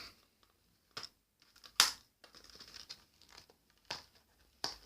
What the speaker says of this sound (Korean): 뜯는 소리 들리시나요?